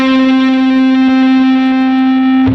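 One sustained electric guitar note, distorted and with no vibrato, rings loud and steady at a fixed pitch, close and alone, and is cut off after about two and a half seconds.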